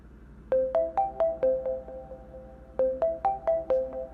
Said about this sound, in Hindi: फोन उठाओ, पता चल जाएगा।